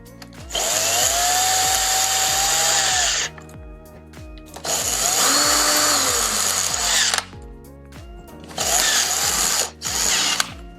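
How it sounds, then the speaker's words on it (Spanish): A cordless drill runs in three long bursts, driving a screw into an electrical junction box; its clutch slips and ratchets once maximum torque is reached, with short quiet gaps between runs. "Habéis visto que el taladro avisa, salta cuando ya está el máximo de newton posible"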